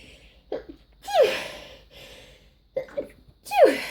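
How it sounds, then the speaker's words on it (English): Two sneezes from a person with a cold, each preceded by a sharp inhaled gasp, close and fairly loud, with quiet room tone between them. "I'm going to sneeze any second now"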